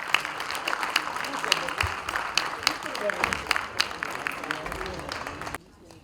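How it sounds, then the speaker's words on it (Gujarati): An audience at a bank's award and honours ceremony in Bhavnagar claps in a sustained burst of applause for several seconds, then it stops abruptly. "સન્માનને તાળીઓથી વધાવીએ"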